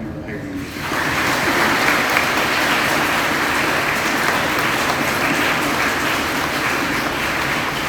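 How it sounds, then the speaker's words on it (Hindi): A church congregation applauds two newly ordained deacons at a diaconate ordination Mass in Simdega Diocese. The clapping is steady, dense and reverberant, swells in after a brief quiet start, and continues evenly to the end. "हम उन्हें ताली बजाकर उन्हें बधाई देंगे।"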